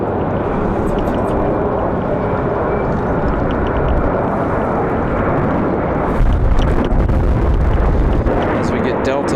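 An Airbus A220-300 jet lands at Raleigh-Durham airport on a windy day, its steady broad engine roar heavily buffeted by gusting wind and swelling louder near the end.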